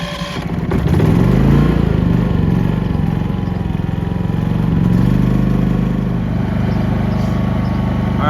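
A Westinghouse iGen4500 generator runs steadily close by, a loud, even engine drone with a low throbbing hum that swells slightly at first and then holds constant.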